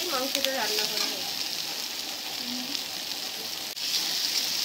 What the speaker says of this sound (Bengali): এই অল্প তেলেতেই মাংসটা রান্না করা হয়